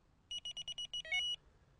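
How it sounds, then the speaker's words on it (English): A Delkim TX-i fishing bite alarm bleeps in a quick run of about eight short, clear electronic tones, ending in a slightly longer two-tone beep, alone against near silence. "so just activate the first buzzer"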